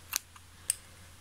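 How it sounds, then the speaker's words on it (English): Scissors snip through crochet thread at the end of a half double crochet tablemat: two crisp, close cuts a half second apart, with a faint click between, in a quiet room. "So I'll just chain one and cut my thread"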